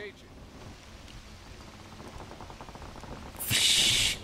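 Rain in the LEGO Jurassic World video game at the T-Rex enclosure: a soft, steady patter for several seconds, then a sudden loud rushing downpour hiss near the end, with voices beneath it.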